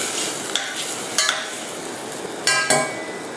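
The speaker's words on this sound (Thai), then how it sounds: "เราก็จะมาใส่หนังหมูกันค่ะ คนให้เข้ากันนะคะ" Minced pork and pork skin stirred together in a hot pan for Thai laab moo, with steady sizzling and several sharp utensil scrapes and clinks against the pan.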